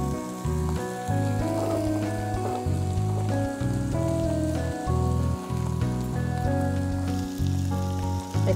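Small fish cooking in a kadai as the water boils off, giving a steady close sizzle and bubbling under loud overlaid music.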